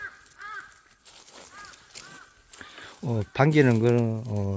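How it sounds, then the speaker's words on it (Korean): A crow caws loudly and harshly a few times near the end, after someone speaks quietly outdoors on a mountain hike, with scattered rustling and footsteps. "까마귀 울음소리 들리죠?"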